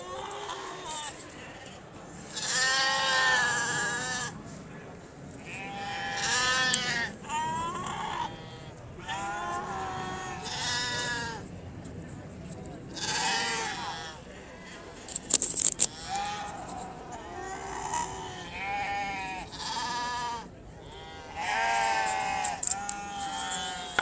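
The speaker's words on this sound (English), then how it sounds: "we hope we're giving you some of the atmosphere from this tremendous show of Valais Blacknose sheep." Valais Blacknose sheep bleating repeatedly at an agricultural show, several animals calling in overlapping bursts at close range across a quiet pen background.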